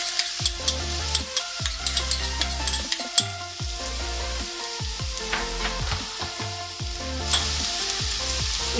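Grated ginger and garlic fry in a pan for paneer Manchurian with a steady close sizzle, while a spoon or spatula knocks and scrapes against the pan at an irregular pace, and no one speaks.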